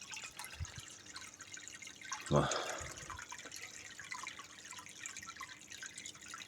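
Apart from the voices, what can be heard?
pouring clean water into aquarium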